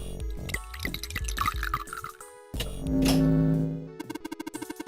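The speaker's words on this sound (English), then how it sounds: "Pour in the blue liquid." Blue liquid is poured in the puzzle game 999: 9 Hours, 9 Persons, 9 Doors, with a run of dripping, bubbling liquid sounds, a swelling pour, then a quick series of small drips at the end.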